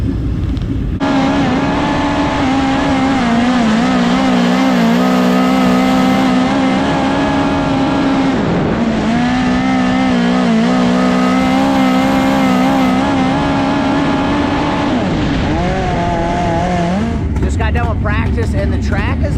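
Race cars push off on a small dirt track at Belleville, Kansas, engines droning loudly and steadily with rising and falling pitch, a brief dip mid-way, and a change in sound near the end.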